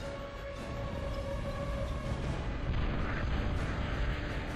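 Continuous rumbling barrage of bombing explosions in a Total Annihilation real-time strategy battle, dense low booms rolling together at steady mid loudness with no clear gaps.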